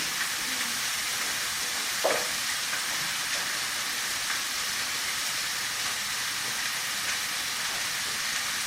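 A burger frying in butter on a gas barbecue, a steady, loud broadband sizzle that holds evenly throughout, with one brief scrape or tap partway through.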